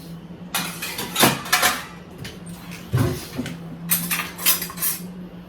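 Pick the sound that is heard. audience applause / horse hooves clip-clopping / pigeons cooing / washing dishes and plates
washing dishes and plates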